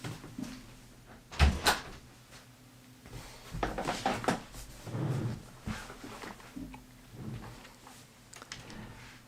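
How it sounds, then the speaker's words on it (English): A room door being shut at home, giving a few knocking and thudding bumps close by, with a sharp bang early and softer clunks and rattles after it, no talking. "let me go shut the door"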